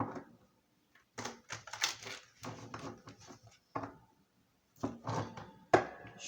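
Tarot cards are shuffled and drawn in quick, crisp bursts of papery riffling and slapping. Clusters of close, sharp card noise are separated by short quiet pauses.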